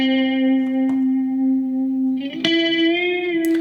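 Two guitar lines panned hard left and right with added saturation, sustaining a clear bright tone with a slightly dirty edge, then shifting pitch near the end; loud, reverberant and heard alone.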